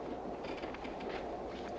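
Passenger train rolling on rails, a steady rumbling roar with faint rhythmic clatter throughout, continuous and fairly close, no voices.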